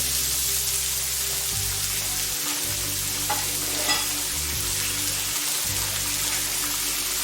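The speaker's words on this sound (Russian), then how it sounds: "Масло разогреваю. Лучок обжариваю до легкой золотистости." Onions frying in hot oil, a steady close sizzle with a few stirring scrapes, continuous and moderately quiet with no talking.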